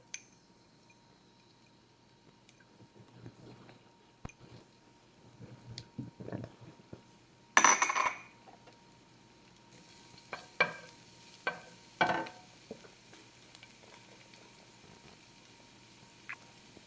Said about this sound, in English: A bit of olive oil. And then we're gonna add the garlic that we mince.